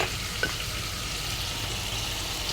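Spices and Maggi seasoning frying in a pan, a steady soft sizzle with faint stirring scrapes and no talking.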